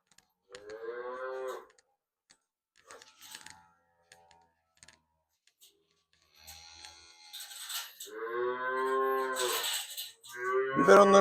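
Hungry calves on a Turkish village dairy farm moo loudly in two long, drawn-out calls with a shorter bleat in between, close by, interspersed with brief clattering and handling noises.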